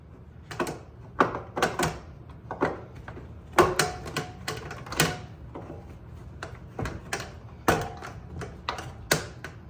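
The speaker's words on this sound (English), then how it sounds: "you want to start gently prying it with your hands. Only work the screwdriver as needed." A screwdriver pries the plastic molding loose from a microwave door, producing a series of close, irregular clicks, snaps and taps at uneven intervals.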